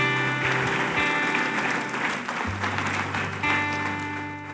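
A church congregation at a Spanish-language service applauds in a sustained wash of clapping, with held musical tones sounding alongside and the applause gradually easing off.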